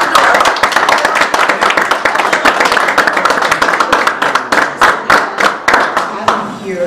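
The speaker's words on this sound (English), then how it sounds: "I'm going to ask you all to just stand and clap and help me to greet our guest for this evening, Mr. Walt Borisenok" Audience at a Startup Grind evening event standing and clapping to greet guest Walter Borisenok of Fortitech: dense, sustained applause from many hands, loud and continuous, tapering near the end.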